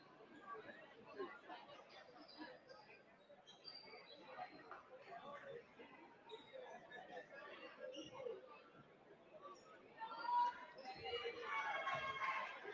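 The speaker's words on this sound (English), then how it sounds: "you can hear the crowd here as they chanting defense right now" Basketball crowd in a university homecoming gym, a dense murmur of many voices with rising chant-like swells near the end, steady and moderately loud throughout.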